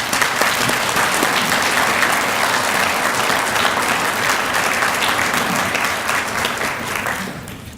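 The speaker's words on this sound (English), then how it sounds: "just give them a round of applause right now" A large audience claps at an emergency services academy graduation ceremony, sustained loud applause filling the hall for several seconds before it begins to taper off at the end.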